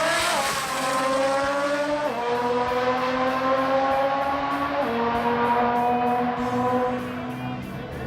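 A wheelstanding Mazda RX-7 race car at a Sydney drag racing event accelerates hard, its high-revving engine rising in pitch through distinct gear shifts, loud and close and sustained over a faint crowd.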